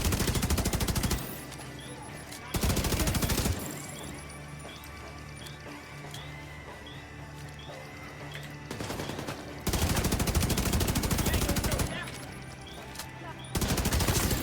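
Carbine gunfire in the Starfield video game comes in loud bursts of rapid shots separated by quieter stretches of humming game ambience and soft mechanical ticks.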